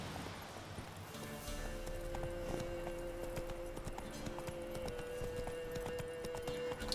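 In The Witcher 3 video game, the horse Roach gallops, making a steady, fast clip-clop of hooves. The hoofbeats are quiet and sit under a faint game soundscape and a held music tone, with no talk.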